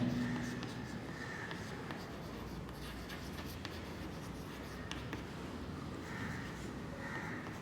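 Chalk or marker scratches steadily across a board during a physics lecture, a soft continuous scraping with a faint hum underneath.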